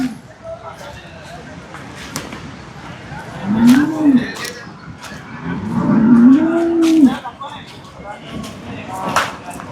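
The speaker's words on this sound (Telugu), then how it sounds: "ఈ జాఫరాబాదీ గేదె చూస్తున్నారు కదా, చాలా హెవీగా ఉంది అయితే ఇది." A Jafarabadi buffalo at a buffalo market moos twice, long, low, wavering calls heard nearby over background voices and farmyard noise.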